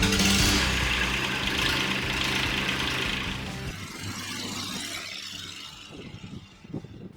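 A Kubota D722 diesel engine swapped into a Saturn SC1 starts up, a loud rough clatter and rumble at first that settles into a quieter uneven running sound, with a few knocks toward the end.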